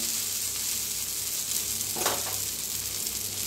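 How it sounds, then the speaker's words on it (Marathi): A dosa roasts on a hot pan and is flipped to cook both sides, giving a steady, close sizzle throughout with a brief brighter crackle near the middle and no talking. "छान दोन्ही साईडने भाजून घेऊया आपण."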